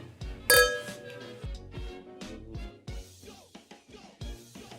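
Wine glasses of Israeli Bravdo wine clink together in a toast, giving one bright ringing chime followed by a fading shimmer in a quiet room.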